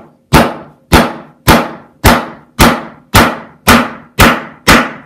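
Guitar frets are tapped into a flamenco guitar fretboard with a hammer striking a notched tapping stick, eight sharp, loud knocks in an even, steady rhythm, each ringing out briefly.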